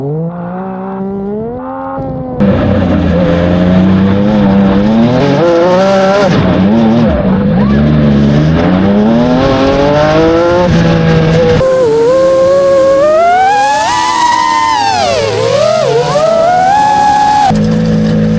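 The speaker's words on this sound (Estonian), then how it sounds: "See on meie auto, millega sa täna siis sõitma hakkad." Cross kart driven on a track with a manual gearbox, its engine revving loud and close, pitch rising and falling through gear changes and throttle lifts for the whole stretch, with no talk.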